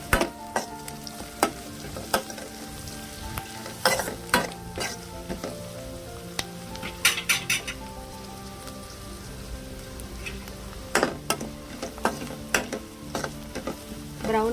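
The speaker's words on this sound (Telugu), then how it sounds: "వెల్లిపాయలు 3 దంచి నూనెలో వేసానండి." Three crushed garlic cloves with turmeric and cumin frying in oil for an amaranth and chana dal curry: a continuous crackling sizzle with sharp, irregular spatula scrapes, close and loud.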